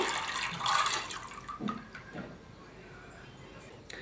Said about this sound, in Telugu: మూడు వందల గ్రాములు నానబెట్టుకున్న పచ్చిశనగపప్పు వేసుకుందామండి ఇందులో